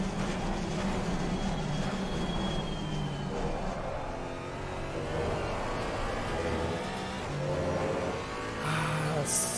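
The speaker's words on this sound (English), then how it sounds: "Just wish the Porsche would sound a bit more aggressive." A Porsche GT4 race car engine in Assetto Corsa Competizione, racing at Monza, drones steadily and close throughout, its pitch rising and falling with gear changes and joined by rumbling road noise.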